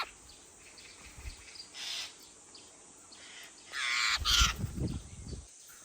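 A magpie calls at a spot where small birds are being fed. Two or three harsh, chattering bursts come from fairly close over faint background noise.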